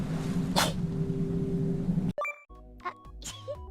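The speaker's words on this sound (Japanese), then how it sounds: "くしゃみ。" A streamer gives a single sharp sneeze over steady background noise, then the noise cuts out and a few faint chime-like tones and small knocks follow.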